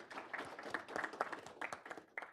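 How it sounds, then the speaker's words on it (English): Audience applause at a semiconductor industry event honoring a TSMC senior vice president, a brief burst of scattered clapping from a crowd, moderately distant and without voices. "Please give him a round of applause."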